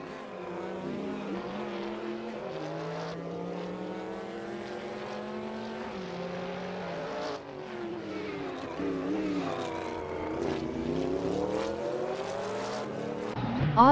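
A Mitsubishi race car circling Le Mans in a racing video game, its engine a steady, loud tonal drone that rises and falls in pitch through gear changes, with a brief sharper burst at the end.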